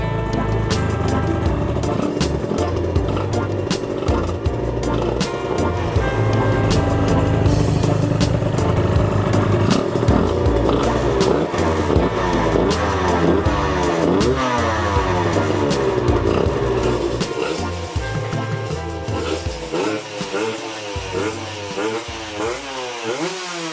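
Suzuki RG Gamma two-stroke motorcycle engine firing up and running steadily, a loud, close, raspy buzz with revving fluctuations throughout, easing slightly toward the end.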